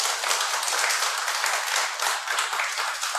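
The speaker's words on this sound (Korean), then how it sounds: "우리가 큰 박수를 한번 보내주시기 바랍니다." Dense, steady applause from a church congregation during a worship service at a Seoul sanctuary, many hands clapping together loudly and evenly throughout, without talk.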